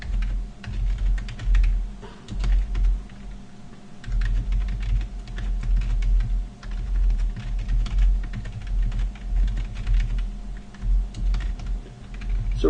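Code being typed on a computer keyboard, a dense continuous patter of key clicks with brief pauses, close and steady over a low room hum, no talking.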